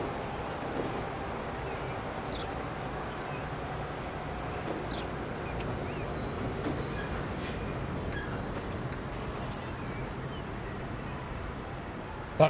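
A train in the Transport Fever 2 rail game rumbles along as a steady, continuous roll with faint wheel squeals and brief metallic tones, mid-distance and even throughout, with no talking.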